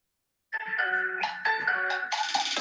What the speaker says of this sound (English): Ms. Nunez, please turn off the phone, whoever's in the room.